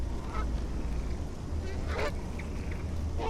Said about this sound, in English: It's best not to disturb a quiet goose.